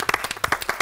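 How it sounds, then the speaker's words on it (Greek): Studio audience applause on a Greek morning TV show: brisk, dense clapping, near and loud, in a short burst. "το χειροκρότημά μας το αξίζει νομίζω"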